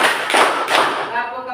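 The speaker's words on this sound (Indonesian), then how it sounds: "Pak Guru minta tepuk semangatnya lagi biar tambah semangat" A school class claps in unison, a few sharp group claps landing in a rhythmic pattern close by, then the sound fades into a softer tail.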